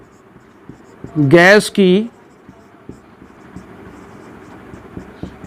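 Faint, scratchy strokes of writing on a classroom board tick along through the clip, with a teacher briefly speaking over them near the start.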